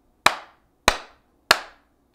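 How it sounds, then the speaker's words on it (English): Three sharp hand claps, evenly spaced about half a second apart, close and crisp, each with a short decaying ring, alone in a quiet room. "I give my future self a great big stamp of approval by clapping 3 times."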